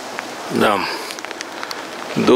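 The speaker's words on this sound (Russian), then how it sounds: "дождик поливает" Steady rain patters on surfaces with scattered drips, while a voice speaks briefly over it near the start and end.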